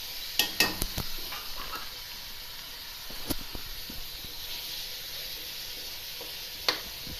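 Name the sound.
keema frying lightly in a pan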